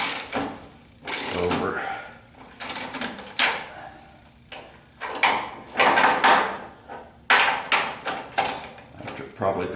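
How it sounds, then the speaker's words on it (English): A wrench tightening a bolt on a 1976 Corvette trailing arm with a frozen bushing, giving bursts of ratcheting clicks and metallic creaks in uneven repeated strokes, with someone talking between them. "as I'm tightening this bolt, drawing it back, it's moving the entire trailing arm"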